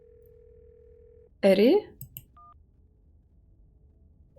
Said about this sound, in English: You can hear something drop violently on the other end, and then a dial tone.